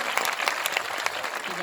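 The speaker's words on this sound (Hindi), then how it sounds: "जोरदार ताली बजा के स्वागत करें इनका" A crowd at a Suheldev Bharatiya Samaj Party rally in Muhammadabad, Ghazipur, breaks into dense, sustained applause to welcome a guest, loud and continuous, with a voice talking over the clapping.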